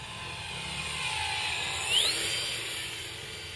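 A small RC Sky Trainer model airplane makes a slow, low flyby, its electric motor whine rising as it passes near and then fading, alone without talk.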